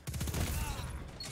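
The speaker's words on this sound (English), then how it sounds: "That's a grenade launcher." A grenade launcher fires during Destiny 2 PvP play, giving a rapid run of thumping low shots that blur into a short rumbling volley and then fade.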